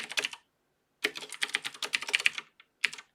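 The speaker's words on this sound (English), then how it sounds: "I'm going to type Tundra." Fast, close keystrokes on a computer keyboard as a command is typed into a terminal, two bursts of rapid clicking separated by a short pause, with one last isolated tap at the end.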